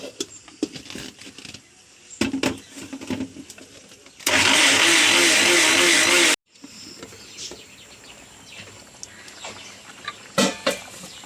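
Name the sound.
mixer grinder grinding coconut and cumin with water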